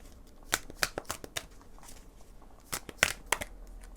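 Tarot cards are shuffled by hand at close range, giving quick, crisp riffling bursts and soft flicks in uneven clusters, quiet between strokes, with no talking.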